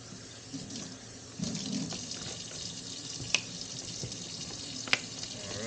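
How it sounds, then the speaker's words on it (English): Water runs from a kitchen tap as a container is rinsed while a blueberry smoothie is being made, a steady low splashing stream with a couple of sharp clinks against the sink, fairly close and moderately quiet. "Let's rinse this really quick."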